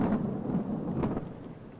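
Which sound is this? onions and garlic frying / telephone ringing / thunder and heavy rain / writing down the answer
thunder and heavy rain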